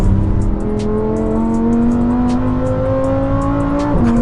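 A Lamborghini Huracán STO prototype with a naturally aspirated 5.2-litre V10 engine revs loudly and close up, its pitch climbing steadily through the gear before a brief dip at a shift, heard alone without talking.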